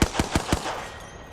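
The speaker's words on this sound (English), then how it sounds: "Stop shooting at me." Video game gunfire: four sharp automatic shots in an even rapid rhythm, close and loud, then a fading tail.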